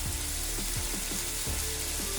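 Salmon pieces fry in oil in a pan, producing a dense, steady sizzle with a faint repeating mechanical ticking underneath, continuous and close throughout.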